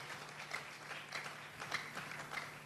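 A church congregation applauds and cheers in praise of the Lord, a steady wash of clapping that sounds a little distant and holds even throughout.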